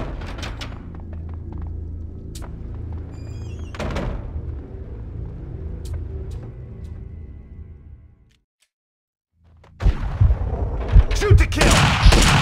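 Gunfire from Max Payne 2, a steady wash of shots and booming impacts under game music, cutting to near-silence briefly before a loud, dense burst of rapid shots and blasts erupts close by.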